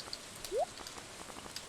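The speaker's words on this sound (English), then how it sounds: "sounds it's raining." Soft steady rainfall in Stardew Valley, a faint even patter with scattered light drop ticks and one brief rising chirp in the middle, no voices.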